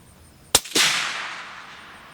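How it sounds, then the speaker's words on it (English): A suppressed shot from a CVA Cascade bolt-action rifle gives one sharp crack, followed a moment later by a second burst that decays into a long, loud outdoor echo. "we got all 4 rounds downrange again with the suppressor"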